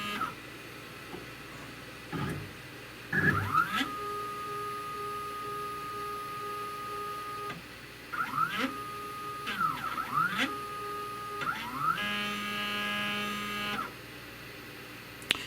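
A DaVinci 1.0 AIO 3D printer running a demo build sample, its stepper motors whining and chirping in rising and falling sweeps, with steady tonal passages and short pauses between moves.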